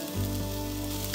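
Flour-coated chicken pieces sizzle steadily as they brown in a hot pan for a chicken curry, a continuous close frying hiss with a low hum beneath it and no talking.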